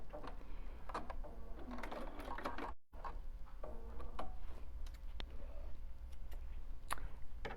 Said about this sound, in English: it's letting me sew, so okay. All right, so here I go,